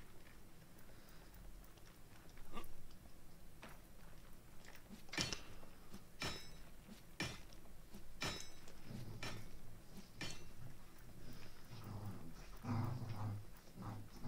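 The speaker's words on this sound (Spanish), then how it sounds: "Es uno de mis perros que cuando se raspa gruñe" A dog grunts and growls softly while scratching itself, with scattered sharp knocks and rustles and a low rumbling stretch near the end, fairly quiet and close.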